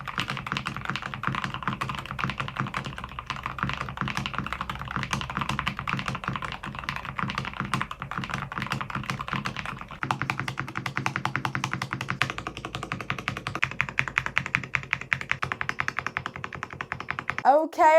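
Rapid, steady typing on a stock Monsgeek M1 V3 mechanical keyboard with a black gradient keycap set, deep clacky keystrokes close up, with a voice talking over parts of it.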